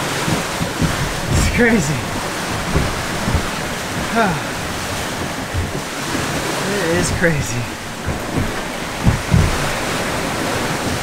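Steady wind roars and waves wash around a sailboat moving at 7-8 knots in 15 knots of apparent wind under sunny skies, with water swells and gusts continuous throughout and a voice speaking briefly over them.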